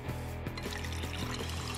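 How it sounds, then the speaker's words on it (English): Water pours into a gigantic king-size flask in a continuous, close gurgling stream that lasts just under two seconds with no voices. "She takes out a gigantic king-size flask and fills it with water."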